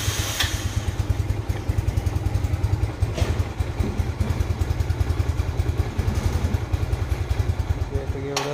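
Motorcycles pass along a street in a Vietnamese town, their engines a steady, continuous drone with fluctuating clatter that holds for several seconds at close to moderate distance, with a louder surge near the end.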